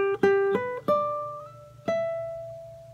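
Guitar picks a short melody fragment of an Andean song, four plucked notes in quick succession followed by a last note ringing out, clear and close with no talking.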